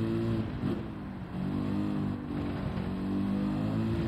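A race car engine drones loudly and steadily as it pulls under power at the start in Gran Turismo 7, with no talk over it.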